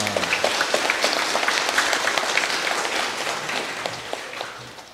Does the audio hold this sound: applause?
yes